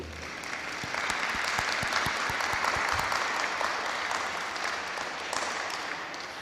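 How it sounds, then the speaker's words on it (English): A room full of people at a poetry event applauds, steady clapping that swells quickly and holds, then begins to taper off toward the end. "give her the applause that is due"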